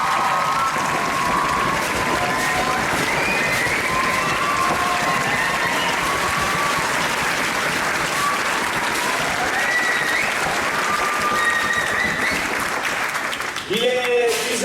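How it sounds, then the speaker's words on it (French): Sustained audience applause after the final performance of a 2017 amateur stage show, dense and steady clapping filling the hall with faint cheers mixed in, fading slightly near the end. "je pense qu'on peut applaudir ce travail et ce résultat"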